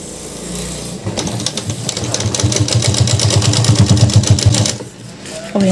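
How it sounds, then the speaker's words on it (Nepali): Sewing machine stitching a waterproof shoulder bag, a fast steady mechanical rattle of needle strokes that runs loud and close for about four seconds before stopping. "यसरी राखेर यसको माथिबाटै सिलाउँदै आउने।"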